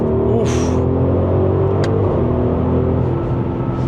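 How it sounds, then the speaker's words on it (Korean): A 2026 Audi RS Q8 Performance with a V8 engine and RS sport exhaust, heard as a steady, loud, deep rumble from close by while the car is driving. "RS 스포츠배기는"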